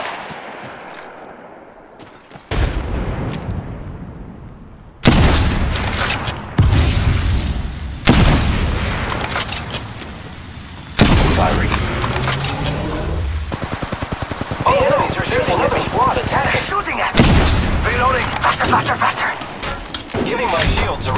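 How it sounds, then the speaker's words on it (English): Gunfire from an enemy squad in Apex Legends Mobile, loud bursts of shots and booms coming in waves through the match, with a voice speaking briefly under the fire. "The second squad is firing at us."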